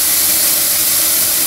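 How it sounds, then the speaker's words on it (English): Steam hissing hard through a homemade blower on a large steam boiler, a loud, continuous broadband rush that stays constant throughout, close up with no talking. "Steam going through there."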